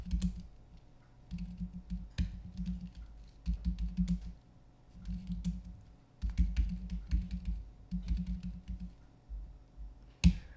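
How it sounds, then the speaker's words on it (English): Keystrokes on a computer keyboard as commands are typed on a Mac, arriving in close, steady bursts of clicks with short pauses between, alone and fairly quiet. "So I'm going to just show you the command on screen and type it at the same time."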